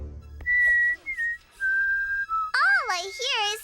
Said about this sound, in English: All I hear is Sasquatch whistling.